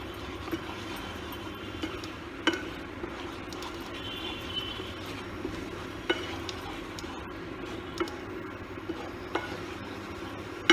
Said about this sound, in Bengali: টক দইটা দিয়ে একটু ভালো করে নাড়াচাড়া করতে হবে